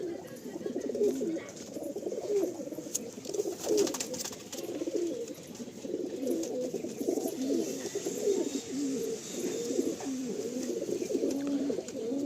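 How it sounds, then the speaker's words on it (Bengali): Pigeons coo steadily in a loft holding mostly male birds, a dense overlapping chorus of low throaty calls that carries on without pause, close and fairly loud throughout. "নর পায়রা একটু বেশি আছে ভাইয়ের লফটে।"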